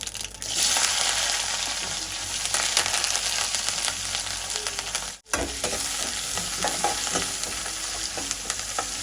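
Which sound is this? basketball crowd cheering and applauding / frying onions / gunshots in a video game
frying onions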